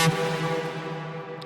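A bright synth bass stab with a detuned second oscillator, buzzy and harmonically rich, sustains for just over a second and slowly fades, alone.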